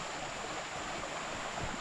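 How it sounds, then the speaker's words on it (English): A creek in a forest flows in a continuous soft rushing wash, steady and moderately faint, with no voices. "Found Walker's Creek."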